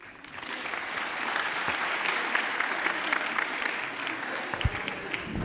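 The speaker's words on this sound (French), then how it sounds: "tout le monde va applaudir" Audience applause during a student association's visit to the National Assembly, a dense, even patter of many hands sustained for several seconds at moderate level, with no voices over it.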